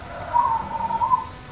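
A kantong semar zebra dove (perkutut) gives a soft, close, drawn-out cooing call with a gently wavering pitch, heard alone against quiet surroundings.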